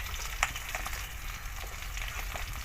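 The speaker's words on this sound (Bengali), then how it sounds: "ওই এটা ভাজা হয়ে গেছে, মাছগুলো সব তুলে নেব।" Mini katla fish frying in hot oil, a steady quiet sizzle and crackle with small sharp pops, heard alone without voices.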